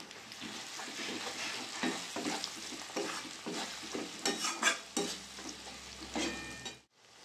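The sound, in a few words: spices with chilli powder frying and stirred for chicken curry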